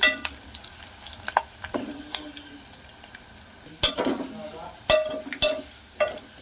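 Lentils and gongura sizzling in a pan while a spoon stirs, a soft steady fry broken by scattered scrapes and clinks against the metal.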